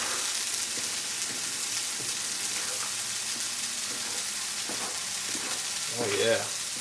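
Nopales charring in a hot pan make a constant close sizzle, broken by a few stirring scrapes and a louder burst near the end.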